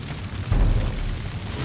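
A booming explosion in the video game Lamplighters League: a low rumble swells suddenly into a heavy, sustained blast that stays loud to the end, with no speech.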